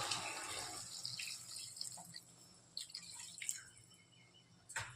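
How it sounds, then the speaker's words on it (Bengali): Water is poured into a pan of spiced onion and ginger paste for a Bengali fish and potato curry, giving a faint, steady trickle with soft drips and splashes in a quiet kitchen. "কষে গেছে, এখন জলটা দিয়ে দিচ্ছি।"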